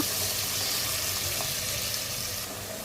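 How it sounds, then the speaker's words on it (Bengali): A little water poured into a hot pan of chicken with tomato and spices cooking for a turnip and shrimp curry, making a loud hiss and splash that eases off slightly near the end. "অল্প একটু পানি দিয়ে দিব"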